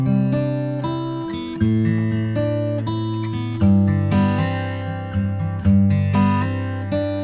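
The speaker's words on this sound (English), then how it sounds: "I've done that to mess up this acoustic guitar, which initially sounded like this." An unprocessed acoustic guitar is strummed and picked in a clean chord progression, with new chords struck every couple of seconds that ring and fade, close and clear, with no talk.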